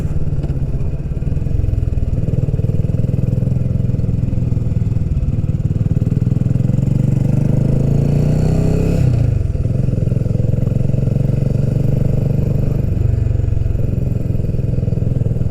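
A BSA motorcycle engine pulls in second gear on a road ride, a loud close droning thrum that rises in pitch, briefly dips and settles again, with wind rush throughout.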